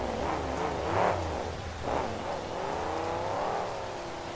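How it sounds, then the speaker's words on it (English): A monster truck engine revs hard during a racing event in Oakland, California, with rising and falling roars and surges, loud and continuous with no talk. "You can hear him. He's not afraid to step on that gas pedal."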